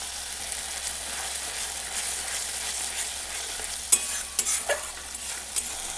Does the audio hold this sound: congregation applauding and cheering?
no